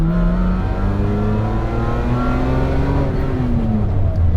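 A 1986 Lamborghini LM002 V12 engine revs and pulls hard under acceleration, a loud, steady, close engine roar with rising harmonics throughout and no talking.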